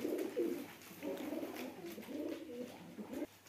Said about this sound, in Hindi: ये जी मेरा डॉलर कबूतर है